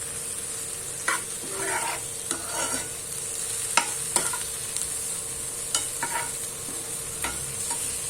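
Vegetables for a pizza topping frying in a pan, a steady soft sizzle with repeated scraping stirs from a spoon at close range and no talking.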